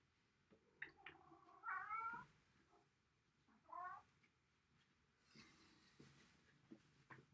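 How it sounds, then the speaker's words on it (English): A cat meows at a door indoors, several drawn-out calls in separate bursts with quiet gaps between, fairly close and alone with no talk. "I think my cat is just meowing at the door."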